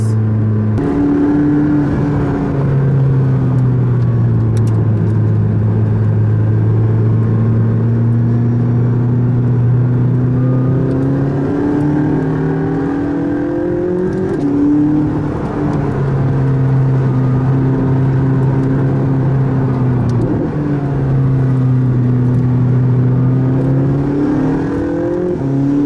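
A Pagani supercar's engine pulls hard up a hillside mountain road, its loud, close drone rising in pitch through long gear runs, dipping at shifts and then climbing again without pause.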